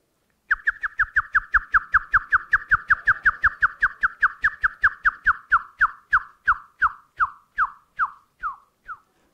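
A person whistles an imitation of the Indian blackbird's call: a clear, close run of about thirty short, evenly spaced whistled notes that spread out and fade toward the end, with no other sound.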